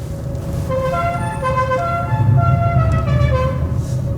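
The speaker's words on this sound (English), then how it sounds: "Hammond's enlivened it with his La Cucaracha horn" A musical car horn on Hammond's muscle car plays the La Cucaracha tune, a loud, close sequence of bright honked notes in a quick melodic rhythm over rumbling engine noise.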